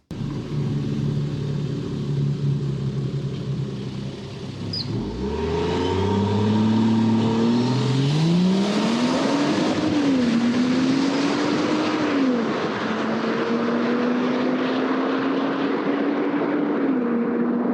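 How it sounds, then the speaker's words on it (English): A Land Rover Defender D90 engine revs up from idle and accelerates hard, its pitch climbing through gear changes, loud and close, then holding a steady high drone. "that was a Defender accelerating away at high speed"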